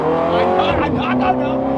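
A supercar's engine revs and pulls under acceleration, a loud, steady harmonic drone close by that rises slightly, with a person talking over it throughout.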